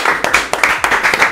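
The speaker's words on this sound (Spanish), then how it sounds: "¡Un aplauso!" Steady applause in a television cooking studio celebrating two months on air, a brisk run of many hands clapping close and loud with no talk over it.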